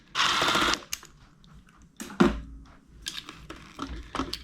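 A 10mm socket ratchet working on the headlight assembly of a vintage Honda XL dirt bike, a rapid burst of ratchet clicking up close, followed by scattered metallic clicks and clunks.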